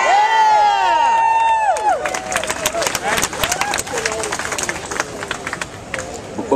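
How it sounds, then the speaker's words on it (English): At a Jobs Not Cuts rally for firefighters, a crowd breaks into cheering and dense, continuous applause, with a loud whistle-like cry fading at the start and shouts over the clapping. "Give him a round of applause"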